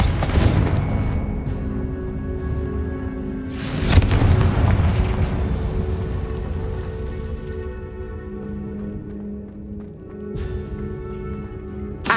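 Bombarda and Confringo spell explosions in Hogwarts Legacy, a couple of loud booming blasts that give way to crackling debris and a lingering rumble, heard alone with no talk.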